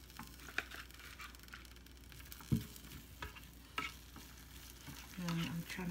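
Broccoli stirred into a frying pan, mixing it through the browned bits in the well: a steady low sizzle with scattered scraping clicks and taps of the utensil, louder toward the end, with no talking.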